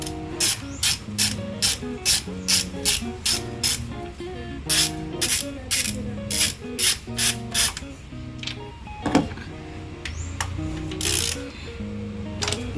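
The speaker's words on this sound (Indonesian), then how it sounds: "menggunakan kunci sok M10, dan posisi melepasnya tetap berlawanan arah jarum jam" An M10 socket wrench ratchets rocker cover bolts off a Nissan Serena C24 engine in rapid bursts of crisp clicking, then pauses briefly between bolts. The sound is close and sharp and repeats steadily throughout.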